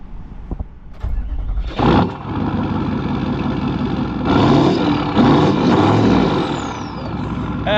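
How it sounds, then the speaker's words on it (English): A V8 diesel car engine idles steadily after a warm-up start, a continuous low rumble with a brief louder burst near the start, running alone without talk. "How bloody good does a V8 diesel sound?"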